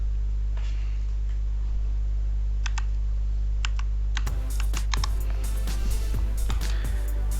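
Keys clicking as a password is typed on a computer keyboard, a few isolated taps at first and then a quick, dense run of keystrokes over a steady low hum.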